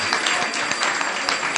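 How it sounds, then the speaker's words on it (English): A crowd applauds at a Gita Jayanti celebration, giving donors another round of steady, dense clapping that holds at an even level throughout. "One more round of applause"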